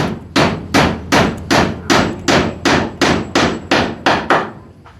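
Nails being driven with a hammer in steady repeated strikes, about ten sharp blows roughly every half second, loud and close with no talk.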